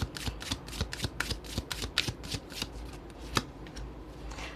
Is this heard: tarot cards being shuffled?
yes